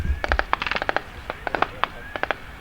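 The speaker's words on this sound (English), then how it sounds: "followed by gunfire." Rapid, uneven bursts of gunfire echo across a Greek army training exercise near Nea Santa, Kilkis, sharp cracks clustering in quick volleys with short pauses between them.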